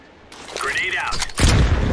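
A grenade thrown in the CS:GO Train map goes off with a loud booming burst in the second half, preceded by gunfire and a game voice line over it.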